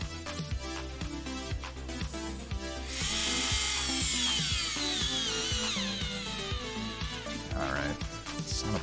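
A power drill bores holes while a model kit is assembled, the motor whining loud and steady with rhythmic repeated thumps underneath, rising to a sustained high-pitched drilling burst in the middle.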